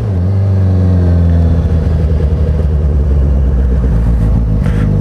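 Motorcycle fitted with a 4x2x1 Full CS exhaust idling and revving, a loud, close, deep rumbling engine note that pulses steadily throughout with no voices.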